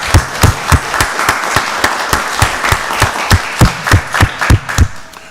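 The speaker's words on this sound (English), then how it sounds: "So let's give them another round of applause." A round of applause at a Rockdale County Board of Commissioners meeting: brisk, fairly even claps repeating steadily for about five seconds, close and moderately loud, with no talking over them.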